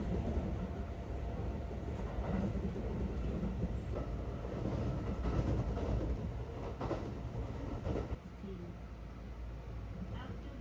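A commuter train on the line from Kyoto to Nara rumbles along with a steady low roar and faint rail clatter, heard from inside the carriage while voices talk over it.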